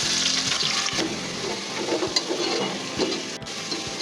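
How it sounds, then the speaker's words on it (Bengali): Sliced onions frying steadily in hot oil for beresta, crisp brown onions for a chicken keema pulao, a dense continuous sizzle with occasional stirring knocks and no talk. "এখন আমরা পেঁয়াজ বেরেস্তা করবো"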